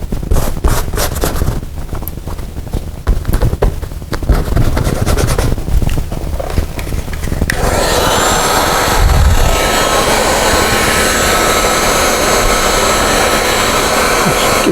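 A heat gun blows hot air onto the headliner of a Land Rover 90. At first there is rustling handling with a quieter blower, then it rises into a loud, steady, close roaring hiss that holds to the end.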